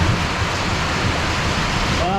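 Heavy rain pours down outside a shelter at a Wisconsin black bear baiting site, a dense continuous hiss of downpour at steady loudness, with a brief faint tonal sound near the end.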